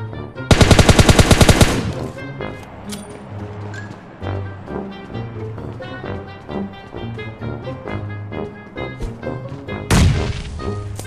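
Video game combat with a long rapid burst of automatic gunfire up front, then scattered shots, thuds and background game noise, and a sharp explosive blast near the end that fits a grenade going off.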